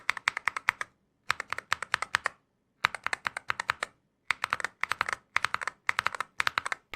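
Typing on a magnetic switch keyboard comes in quick clusters of muffled, soft keystrokes, five or six bursts separated by short silences, close and alone with no talk.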